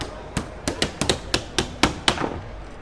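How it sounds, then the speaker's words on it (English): A hammer strikes in an irregular run of about ten sharp, close knocks, each with a short ring and decay, and no talk. "That hammer's got like 2 swings left in the hand."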